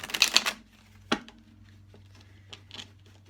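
A deck of tarot cards is shuffled: a quick, crisp riffling burst at the start, then a few sparse light taps and card clicks in a quiet room.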